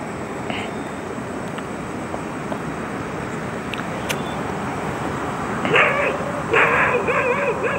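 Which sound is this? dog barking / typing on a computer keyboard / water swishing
dog barking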